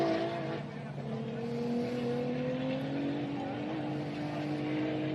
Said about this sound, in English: That car just sounds like it torches the dirt.